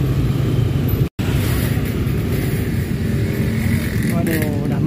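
Dense Jakarta traffic jam heard from a motorcycle, with a steady broadband roar of car and motorbike engines close by, continuous and loud with a brief dropout near the start.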